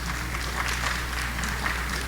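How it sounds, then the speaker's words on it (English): Sustained applause from an audience at a town caucus in Sherborn, steady clapping from many hands filling the room without pause, no speech heard over it. "let's hold the applause to the end"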